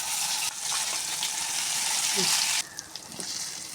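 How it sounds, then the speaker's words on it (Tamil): Pirandai chutney frying in hot sesame oil, a steady close sizzle with soft crackles and occasional stirring scrapes, slightly quieter in the final second. "இப்போ பாருங்கள், நல்லா வதங்குது எண்ணெயில்."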